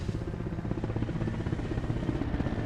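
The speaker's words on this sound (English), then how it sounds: "We have a helicopter on the way." Soviet Mi-8 helicopter in a military video game, a steady rapid rotor thump with a low engine drone, fairly loud and continuous as it approaches, with no talking.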